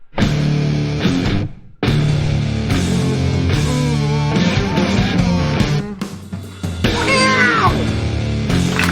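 Loud music plays throughout, with high, swooping, cat-like meowing sounds woven into the mix near the end.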